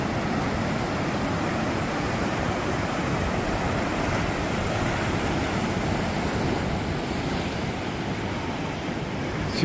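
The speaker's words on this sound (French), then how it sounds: "Oh, regardez-moi ces vagues." Big ocean waves breaking steadily against a cliff-lined Atlantic coast, a continuous loud roar of surf with wind rushing across the microphone and no voices.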